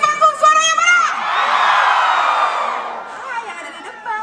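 Large concert crowd at the Toraja Carnaval 2023 roars and shouts on cue, a sustained broad cheer swelling after a brief sung or called phrase, then fading into scattered yells.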